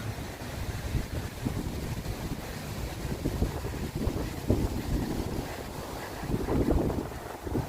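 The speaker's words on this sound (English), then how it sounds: "And it's windy." Gusty wind buffets the microphone in a constant low rumble, swelling and easing, with a faint watery wash underneath.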